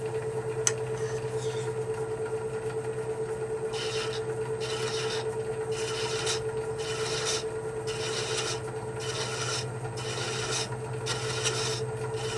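Threads being sanded with 220 grit sandpaper, a rhythmic back-and-forth rasping in regular strokes over a steady machine hum, close and fairly loud.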